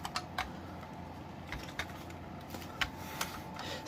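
The button on a BRK 1839I smoke alarm is pressed repeatedly, giving a string of sharp, close, fairly quiet plastic clicks at uneven intervals against a faint hiss.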